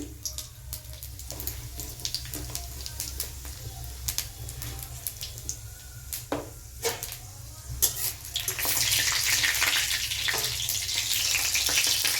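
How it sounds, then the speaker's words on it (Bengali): Dried red chillies and panch phoron hitting hot oil give a steady frying hiss with scattered crackles and pops, swelling into a louder, brighter sizzle toward the end; no talking. "আমার তেল গরম হয়ে গিয়েছে আমি দিয়ে দিচ্ছি শুকনো লঙ্কা তারপরে দিয়ে দিচ্ছি পাঁচ ফোড়ন"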